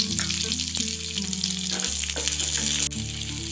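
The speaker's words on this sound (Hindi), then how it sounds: "प्याज को पिंक होने तक भूनेंगे। फ्लेम को लो रखना है।" Chopped onion frying in a pan over a low flame for a spicy tomato garlic chutney, a steady close sizzle with stirring scrapes and a brief bump near the end.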